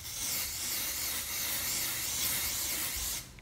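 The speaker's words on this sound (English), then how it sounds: "I'm just gonna spray it on." Aerosol hair product sprayed onto thinning hair, one continuous close hiss lasting about three seconds before cutting off abruptly.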